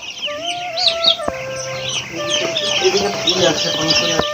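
Hens and chicks cluck and murmur in short, overlapping calls close by at night with the lights off, with a voice speaking over the birds now and then.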